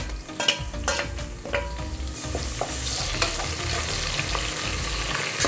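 Steady sizzling of garlic and ginger frying in a hot pan for chicken biryani, with occasional scrapes and stirs of a spoon throughout.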